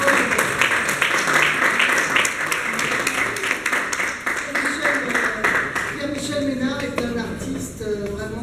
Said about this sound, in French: que j'aimerais qu'on applaudisse